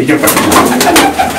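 Pigeons coo loudly and near in a continuous soft, rolling burble, with a voice talking over them at a pigeon-keeping gathering.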